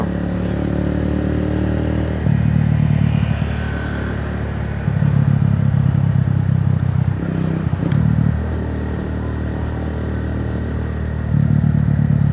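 Motorcycle fitted with clubman handlebars cruising at speed, its engine droning loud and steady with rising and falling pulses of load, and wind rushing continuously across the mount.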